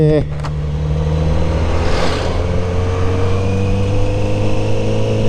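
A Kawasaki Z900RS large naked motorcycle on the road, its engine a steady, loud low drone with a constant pitch throughout, plus wind noise, while a rider speaks briefly over it.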